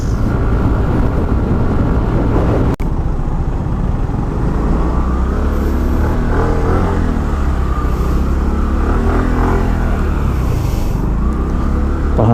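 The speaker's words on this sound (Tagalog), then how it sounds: "Traffic." Road traffic around a Mio Gear scooter on a long solo ride from Manila to Bicol, with a steady rumble of engines and passing vehicles, a brief knock early on, and continuous broadband noise throughout.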